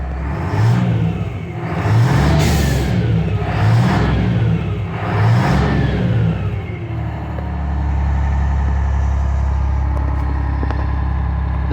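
A 1976 Ford L9000 truck's Detroit Diesel 6-71 engine revs loudly in three or four rising bursts, each falling back to a steady, rumbling idle, with no talking.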